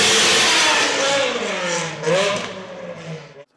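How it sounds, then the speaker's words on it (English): A V10 car engine revs hard with rising and falling pitch sweeps, loud and close, fading out at the end; it sounds much like a mid-1990s Formula One car. "It sounds very much like a mid-90s Formula One car."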